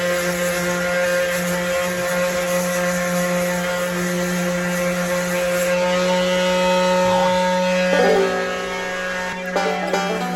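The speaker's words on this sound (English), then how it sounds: "So I've got loads and loads of sanding to do on this with various different grits" An orbital sander whines steadily up close against a van body panel, its pitch shifting slightly before it cuts off near the end.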